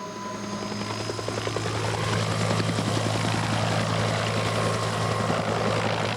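A Huey helicopter in flight, with loud, continuous rotor thumping over a steady turbine whine, close and unbroken throughout.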